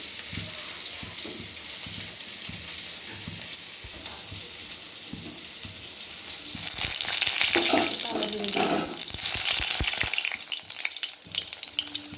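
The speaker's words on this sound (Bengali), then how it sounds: "আমি কড়াইতে আবার একটু সরষের দিয়ে দিলাম" Mustard oil sizzling in a wok, a dense continuous hiss that swells midway with bursts of crackling and spattering, then some clinks and pops toward the end.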